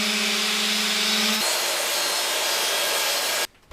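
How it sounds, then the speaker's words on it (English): Sanding the ends of a wooden bead strip for a nightstand cabinet during a boat refit, a continuous loud abrasive whir that shifts tone partway through and then stops abruptly. "I'll just sand the ends of those over."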